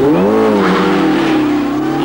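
A rally car on a night-time tarmac stage of the Tour of Mull, a Scottish island rally, roars loudly and close, its engine note rising and falling through a short, continuous burst of revving.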